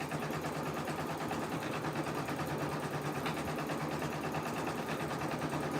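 Home sewing machine at a crafting table running steadily with a fast, even whirring hum throughout, though it runs without laying down any stitches.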